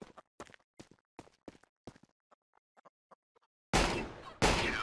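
Gunshots in Counter-Strike: Global Offensive, a string of sharp evenly spaced cracks fading to softer distant pops, then two loud close blasts that ring out and decay.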